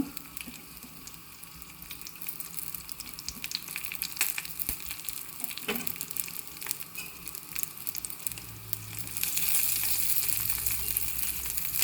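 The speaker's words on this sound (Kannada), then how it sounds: "ಸ್ವಲ್ಪ ಸಾಸಿವೆ, ಬೆಳ್ಳುಳ್ಳಿ ಜಜ್ಜಿದ್ದು ಹಾಕ್ತಾಯಿದ್ದೀನಿ, ಸಿಪ್ಪೆ ತೆಗೆದು ಜಜ್ಜಿಟ್ಟಿದ್ದು" Mustard seeds and crushed peeled garlic sizzle steadily in hot oil, a continuous close frying hiss with scattered pops and crackles that swells louder toward the end.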